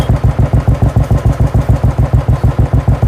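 Royal Enfield Bullet idling through a Gold Star silencer packed with ceramic wool, a steady, moderately loud thump-thump exhaust beat with an even rhythm, heard close up and alone.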